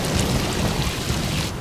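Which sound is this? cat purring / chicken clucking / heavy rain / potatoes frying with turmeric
heavy rain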